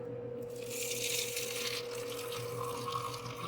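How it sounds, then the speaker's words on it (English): Filtered water pours steadily into a cup with a continuous splashing stream, close and alone, its pitch shifting as the cup fills. "Dilute it with filtered water"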